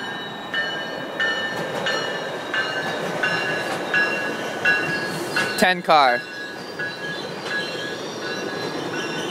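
A GO commuter train rumbles steadily past on the tracks with squealing wheels and metallic clatter, while a person speaks briefly over it.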